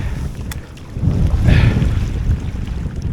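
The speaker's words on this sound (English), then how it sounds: "it's quite a big crosswind here" Strong crosswind buffets the microphone beside a Lake District lake, a loud, rumbling, gusting roar that swells midway and stays heavy throughout.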